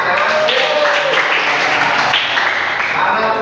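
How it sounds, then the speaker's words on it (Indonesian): Students in a classroom clap together in dense, continuous applause at close range throughout. "Oke, tepuk tangan."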